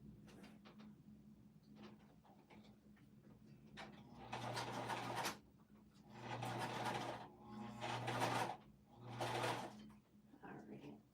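Home sewing machine top stitching a zippered pouch with a regular presser foot, several short runs of rapid stitching with pauses between, close by, with a voice talking in the gaps.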